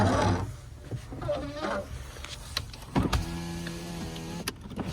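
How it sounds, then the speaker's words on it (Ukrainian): Electric power windows on a Volkswagen Golf 6 hatchback whir up and down inside the car, a steady motor drone with a couple of clunks as the glass stops, close and clear without speech. "Склопідйомники працюють."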